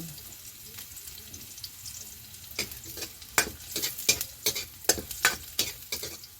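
Food sizzles in a frying pan for an ohong mushroom dish as a utensil stirs and scrapes it, starting with a soft hiss and building into frequent close clinks and scraping strokes.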